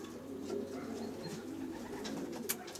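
Racing pigeons in a loft of young birds give low, rolling coos that continue softly throughout, with light scuffles and one brief tap near the end.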